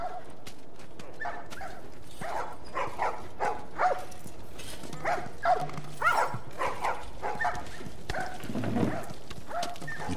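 Several short barks and yips from a dog in The Last of Us Remastered on PS4 come and go amid game sounds and some background voices, moderately loud.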